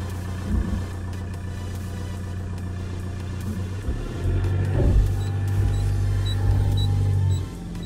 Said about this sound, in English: And I put the car in reverse.